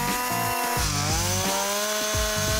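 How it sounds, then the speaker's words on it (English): A chainsaw runs for wood carving, its engine rising and falling in bursts with a steady rough buzz, loud and close with no talking. "What I like to do for fun is start up a chainsaw and carve something."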